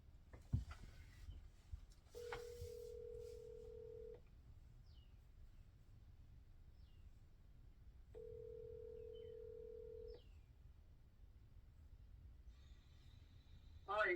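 A phone call is dialed and rings out, with two long, faint ring tones separated by a pause over quiet room noise and a few small chirps, ending in a brief burst of sound.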